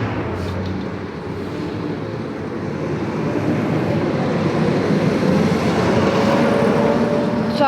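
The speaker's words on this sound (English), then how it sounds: "let's let this truck go by. He's loud." A loud truck passes close by on a street in Fort Worth, a broad rumbling roar that builds steadily and holds strong through the clip, with no talk over it.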